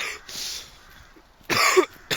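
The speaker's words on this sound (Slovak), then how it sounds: "Kašlem jak jebnutý." A man coughs in a few harsh, close bursts separated by pauses, with faint breathing and background noise in between, on a walk after a long break from smoking.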